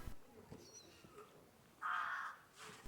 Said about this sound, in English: there appeared to be many birds nested in the trees near the harbour, making quite the noise.